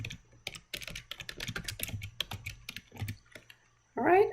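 Rapid keystrokes on a computer keyboard while entering spreadsheet cell labels, a steady clatter of close taps running for about four seconds, ending with a brief burst of speech.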